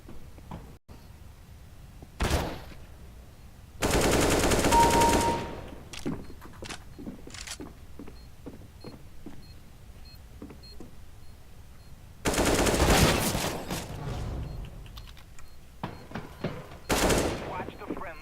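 Gunfire in Counter-Strike: Global Offensive on a demolition safe house map: several bursts of automatic rifle fire, two long sustained volleys and shorter sharp shots, scattered across a quiet stretch with footsteps and thuds in between.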